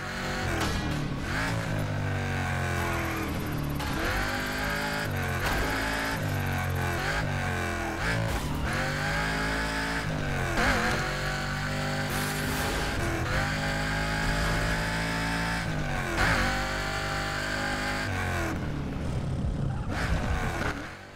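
Cars race in Burnout Paradise, with engines roaring and revving in repeated rising and falling sweeps as the speed climbs and drops, loud and continuous with no talk.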